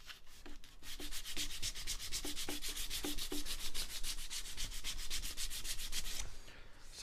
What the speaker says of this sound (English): When I need to get in tight, I'm going to use an abrasive wrap around a ruler.